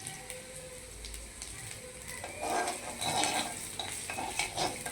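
A spoon stirs a frying mustard and coconut mixture in a pan, giving soft scraping and clinking over a gentle sizzle that grows busier midway. It is fairly quiet and no one talks.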